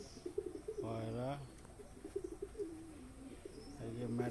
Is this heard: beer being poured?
no